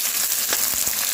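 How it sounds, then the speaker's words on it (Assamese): Vegetables including capsicum and cabbage fry in a pan for chicken fried rice, giving a brief, even, close sizzle with faint stirring crackles. "অকণমান ভাজি লৈছোঁ মই।"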